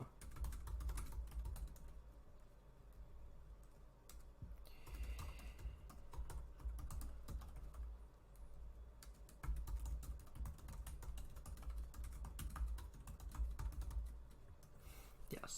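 Someone types code on a computer keyboard in quick irregular bursts of soft clicking, pausing now and then, quiet and close with no voices.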